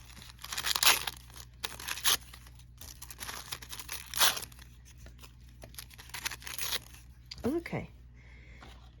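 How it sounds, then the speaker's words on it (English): Paper ephemera is torn into smaller pieces by hand for a junk journal collage, a series of quick, crisp ripping bursts with crinkly rustles between them, close to the ear. "Just quickly tear this up."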